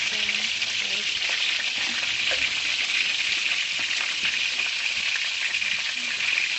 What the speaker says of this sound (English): I'm just going to flip these over onto the skin side one more time to get them a little darker